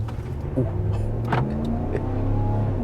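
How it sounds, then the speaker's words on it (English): A 2022 Ram 1500 Limited pickup truck pulls away at full throttle from a stop, engine note climbing through rising revs with a brief shift, loud and close from inside the cab. "let's come to a stop and do a slight acceleration run here. I'm not gonna brake torque it. I'm just gonna just floor it."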